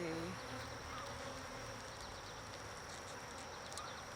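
A dense, steady buzz of honey bees swarms around an open hive during an inspection in a first-year bee yard, a close and continuous drone with individual bees zipping past.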